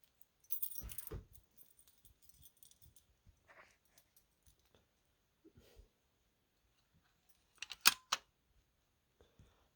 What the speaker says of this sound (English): If I can find my B keys.